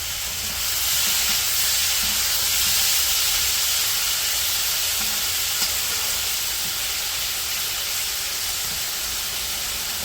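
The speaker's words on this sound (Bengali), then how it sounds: "এখন তেলে দিয়ে উল্টিয়ে পাল্টিয়ে শুধু ভাজা ভাজা করবো" Puti fish rubbed with spices fry in oil, giving a loud, steady, close hiss of sizzling that runs unbroken for about ten seconds, with faint stirring knocks underneath.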